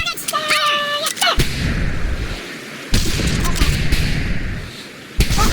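Three loud, booming rifle shots ring out at a shooting range in Medal of Honor Pacific Assault, spaced a second or two apart, following a voice at the start.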